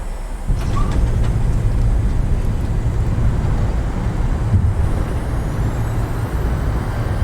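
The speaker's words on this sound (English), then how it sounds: "On the ground, reversers are out," Jet thrust reversers roaring on a Boeing 737 just after touchdown in a flight simulator, a loud, steady broadband roar with a low rumble that holds throughout, no voices.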